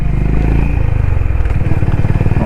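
A Honda CB 350 motorcycle rides at night with a loud, throbbing single-cylinder engine note up close, the exhaust pulses shifting in pitch as it rides.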